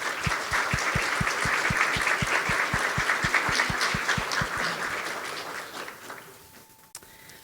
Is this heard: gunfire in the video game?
no